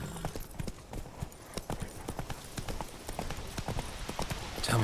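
Horse hooves gallop in The Witcher 3 video game, a rapid, steady clip-clop rhythm of hoofbeats close by, carrying on throughout over a light background bed with no talk.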